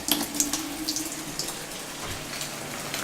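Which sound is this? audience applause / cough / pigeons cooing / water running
water running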